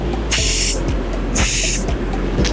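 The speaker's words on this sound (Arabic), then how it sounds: "ترش سبراي" Hair spray misted onto styled hair in a salon blow-dry session, two distinct bursts of hiss about a second apart, loud and close over a steady background hum.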